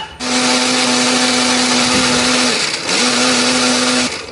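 A kitchen blender grinds shallots, garlic, ginger and turmeric with added water or oil into a spice paste. Its loud, steady motor whine holds a constant pitch, briefly dips and slows, then resumes at full speed before cutting off.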